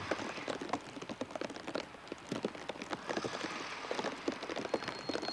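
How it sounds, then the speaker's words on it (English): Heavy rain crackles steadily during a train journey, with dense irregular patters and pops rising and falling across several seconds, fairly faint and continuous with no voices. "The crackling sound is the effect of the heavy rain."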